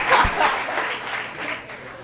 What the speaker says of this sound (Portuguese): É pra aplaudir de pé, igreja!